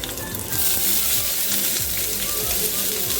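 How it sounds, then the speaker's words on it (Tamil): Onions sautéing in a pan with green chilies and curry leaves, a loud continuous sizzle and crackle that swells after a brief moment, with steady frying noise throughout and no talk. "இப்போ இதில் தேவையான அளவு வெங்காயம் நீங்கள் சேர்த்து நல்லா வதக்கிக்கணும்."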